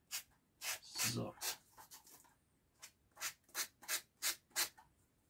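Sandpaper rubbed by hand to round off edges of a workpiece, a series of short, even, scratchy strokes close up, with a brief voice partway through.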